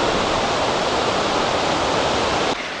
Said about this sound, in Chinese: 我现在是已经到了这整个云台山最大的一处瀑布